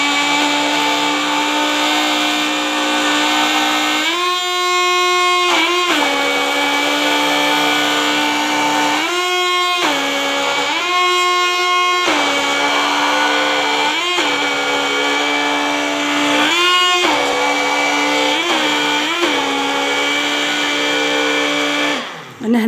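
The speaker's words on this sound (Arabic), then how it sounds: "راح نحرك البغا." An electric blender runs continuously and loudly, emulsifying homemade mayonnaise as oil is poured in. The steady motor whine shifts pitch repeatedly as the mixture thickens, with no talking.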